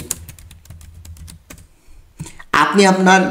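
Typing on a computer keyboard: a quick run of clicky keystrokes for about a second and a half, then a pause and a voice speaking.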